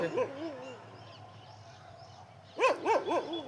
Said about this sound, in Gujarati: મિત્રો. અહીંયા કૂતરો છે.